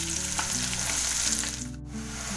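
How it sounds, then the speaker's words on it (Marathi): Chilli and onion sizzle in hot oil in a kadai, a steady close frying hiss with faint crackles throughout. "कढईमध्ये बघा तेल टाकले आणि त्यात टाकते आता मिरची आणि कांदा चांगला लाल करून घ्यायचा."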